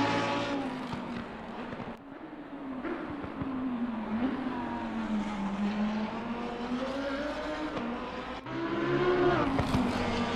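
A GT race car engine in Assetto Corsa Competizione drones steadily, its pitch swooping up and down through corners into turn 1, with a sharp gear change near the end.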